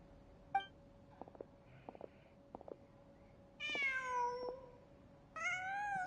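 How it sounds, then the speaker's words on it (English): A cat in the video game Genshin Impact gives two clear, drawn-out meows close by, after a few faint taps and soft background hum. "Just a cat."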